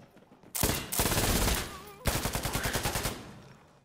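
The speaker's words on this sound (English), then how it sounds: "You can shoot through the wall, too." A light machine gun in a video game rips off loud, close bursts: a short volley, a longer sustained burst, then a rapid stream of evenly spaced shots.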